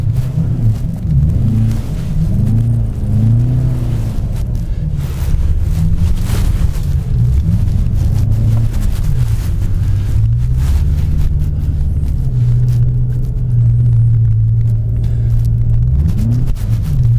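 A 700hp BMW M5 with traction control off accelerates through a Canadian snowstorm, a low rumbling engine drone with wavering pitch under heavy, constant wind buffeting on the microphone, with no talk.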